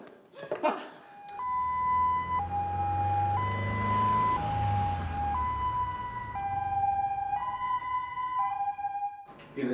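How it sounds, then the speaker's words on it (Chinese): An ambulance siren wails in a two-tone pattern, alternating steadily between high and low pitches. It is loud and close, with brief rustling and movement before and after. "向远，向远，哎呀，赶快叫救护车，快叫救护车。"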